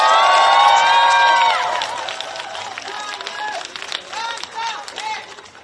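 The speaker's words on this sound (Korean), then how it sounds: "박수 한번 주세요." A crowd at a Democratic Party campaign rally in Gangnam, Seoul, bursts into loud shouted cheers, then settles into mixed clapping and scattered calls that gradually fade.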